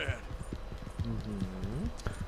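Horse hooves clip-clop steadily in Red Dead Redemption 2 as a rider passes near Saint Denis, quiet beneath someone talking over them.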